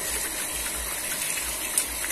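Water gushes steadily from a modified household water pump fitted with a replacement impeller housing, a continuous loud rushing flow with no talk.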